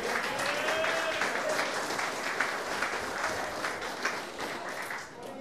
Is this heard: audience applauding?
yes